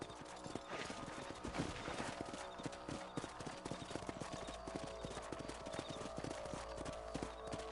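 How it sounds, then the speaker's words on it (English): Horses trotting in the video game Red Dead Redemption, a steady clip-clop of hooves carrying on without pause over a busy layer of game ambience, with a brief whinny early on. "Let's get back on the horses and see what else is going on."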